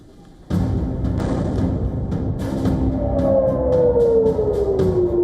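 An air raid siren wails over a loud, rumbling background of noise and sharp bursts, its long tone sliding gradually downward in pitch during the second half, amid wartime strikes in Israel.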